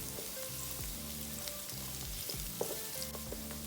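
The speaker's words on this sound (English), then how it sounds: "Let us start making the actual stir fry by sauteing your garlic on medium heat" Garlic sautéing in a pan over medium heat for a Thai seafood stir fry, a steady bright sizzle with a faint rhythmic background hum and a few small pops.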